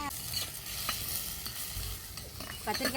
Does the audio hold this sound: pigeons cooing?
no